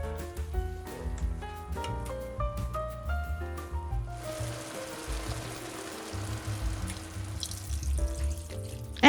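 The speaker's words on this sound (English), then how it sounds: "And then we add in 4 cups of water." Water pours into a pot of sautéed lamb for mandi, a broad rushing splash in the middle of the clip, with background music playing before and after it.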